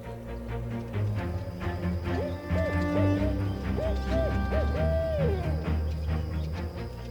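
A tawny owl hoots several times in a snowy Arctic setting, the calls steady and mid-distance beneath a continuous layer of low ambient music or wind.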